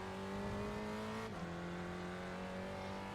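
Spec Racer Ford race car at Sebring in the iRacing sim, its engine droning loud and steady before a sudden pitch drop partway through as it shifts, then holding a lower tone.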